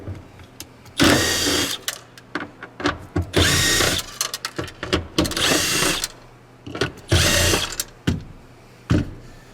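A power drill spins out 10 mm bolts on a Volvo S60/V70 fuel pump access cover, with several loud whirring bursts of about a second each, separated by short pauses and small clicks, close up.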